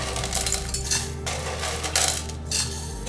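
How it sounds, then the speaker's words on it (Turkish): Milk chocolate chips, around 200-250 grams, tumble into a pot for a chocolate cake, giving a steady rattle of small pieces striking metal with a few clinks, close and continuous with no talk. "Bu aşamada çikolatayı ekleyeceğim."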